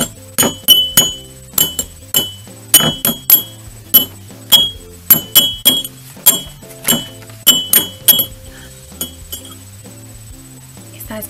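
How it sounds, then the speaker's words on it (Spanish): Small spoon repeatedly tapping a little cup, producing bright clinking strikes in quick rhythmic bursts and short patterns with brief pauses, close and clear. "Entonces yo tengo mi tacita y la cuchara."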